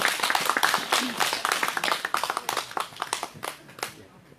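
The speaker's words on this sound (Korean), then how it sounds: "큰 박수로 모시겠습니다." Hands clap at an outdoor Wednesday protest rally against THAAD in Soseong-ri, a small crowd's distinct individual claps in an uneven rhythm, close and fairly loud, with voices underneath.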